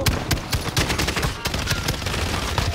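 Rapid video game gunfire, a dense run of sharp, loud shots cracking in quick bursts across the whole moment, close and continuous with no talk over it.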